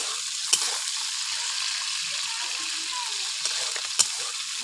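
Prawns frying in hot oil in a pan, a steady close sizzle broken by a few sharp clicks of stirring.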